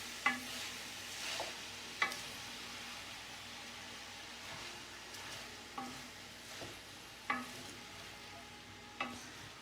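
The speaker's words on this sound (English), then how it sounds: "now we load the gas a little bit and we saute everything together." Cabbage roll soup ingredients saute over a gas stove flame, giving a steady low sizzle broken by periodic scraping stir strokes about every second or two, close by with no talk.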